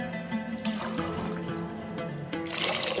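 Water trickles and pours into a pot holding soaked rice for a chickpea and rajma biryani, a soft, fairly faint splashing stream that carries on for several seconds.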